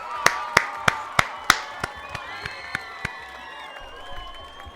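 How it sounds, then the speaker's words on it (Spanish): A small audience claps after a Spanish-language talk on emotional wellbeing and mental disorders, with several sharp, evenly spaced claps near the start, fading into scattered softer claps over a murmur of voices. "tremendo aplauso, ¿no?"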